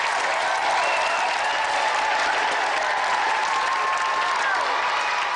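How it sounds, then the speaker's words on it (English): A studio audience applauds the champion on the Gamesmaster game show, a dense, steady wash of clapping that holds at one level throughout with no pauses. "let's have another round of applause for our champion Gary Harrod"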